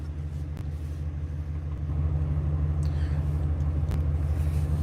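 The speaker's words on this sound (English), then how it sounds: "So I turned my car on." A parked car's engine idles with a steady low rumble and hum close by, growing a little louder about halfway through, with a few faint clicks over it.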